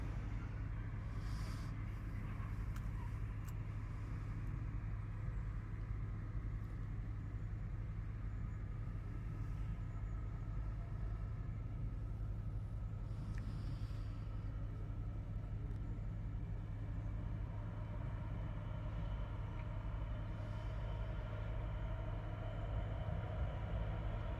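A Class 66 diesel locomotive running light through Hitchin station on the East Coast Main Line, heard as a steady, fairly distant low rumble and drone that holds evenly throughout, with no one talking.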